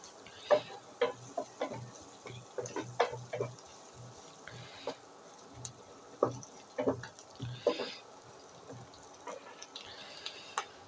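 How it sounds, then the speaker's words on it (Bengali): Vegetables frying lightly in a pan for restaurant-style fried rice, tossed with a spatula. Irregular close scrapes and clacks sound over a soft sizzle. "হালকা জাস্ট একটু ভেজে কালারটা চেঞ্জ হলেই হবে।"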